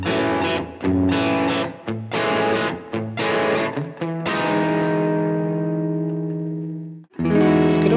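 An electric guitar on the bridge pickup plays distorted open chords, strummed in short rhythmic bursts and then one chord left ringing and slowly fading before a fresh strum, loud and alone.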